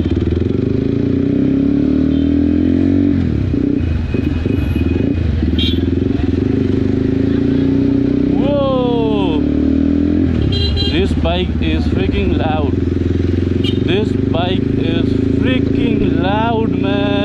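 A Cross Fire CF 250 Twin motorcycle engine runs steadily and loud up close with a low, throbbing drone, while a rider talks over it and brief squeaky tones rise above the engine.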